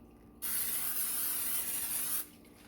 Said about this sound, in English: using this Winco nonstick olive oil cooking spray. to coat my pan with